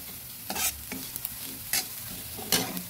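Lentils (dal) frying lightly in a pan for a pumpkin leaf dish, a soft low sizzle punctuated by three or four brisk stirring scrapes, close up.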